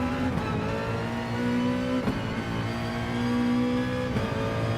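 A race car engine in a racing video game holds a high, steady whine on full throttle, with pitch sweeping up and dropping at gear shifts, continuous and loud with no talk.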